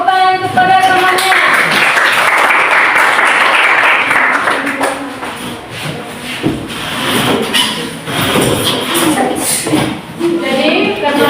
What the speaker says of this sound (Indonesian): silakan beri tepuk tangan kepada temannya